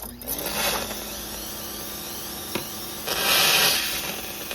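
A pressure washer sand blaster runs with a steady hissing, gritty spray on a 1984 vehicle, surging louder in two bursts with a sharp knock between them.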